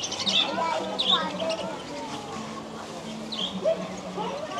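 Cockatiels and other birds chirp and whistle in an aviary park, with short bright calls repeating over a busy background of distant chatter and ambient noise.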